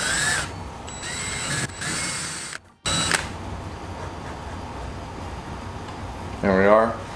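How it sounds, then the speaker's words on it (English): Small power drill boring holes into the bottom of a handmade fishing lure, a steady close whirring that runs for several seconds with a brief break, then a short burst of talk near the end. "drilling these holes on the bottom."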